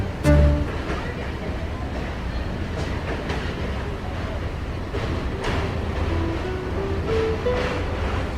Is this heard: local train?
yes